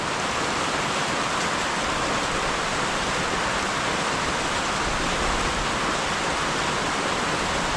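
Heavy rain pours down steadily outdoors near a lanzones orchard, a constant, even roar of hissing water with no pauses and no voices.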